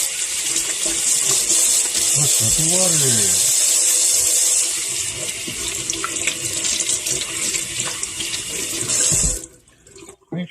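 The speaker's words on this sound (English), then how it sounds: "Unless I wash my hands first." A kitchen tap runs in a steady, loud rush while chocolate frosting is washed off hands, then cuts off near the end; a voice speaks briefly over the water.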